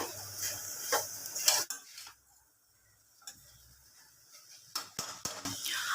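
Grated coconut is stirred into a drumstick-leaf stir-fry in a pan: clattering spoon scrapes and taps come in bursts, drop to near silence for a couple of seconds, then resume.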